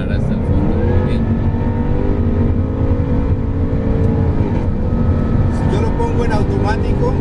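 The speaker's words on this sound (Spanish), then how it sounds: "enderezarlo a la salida de la curva y acelerar hasta el fondo" A 2015 Jaguar F-Type Coupe accelerates hard out of a curve at Willow Springs International Motorsports Park, its engine roaring loud and rising steadily inside the cabin while people talk over it.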